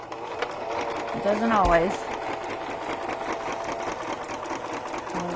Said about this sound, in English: Hopefully my sewing machine will cooperate.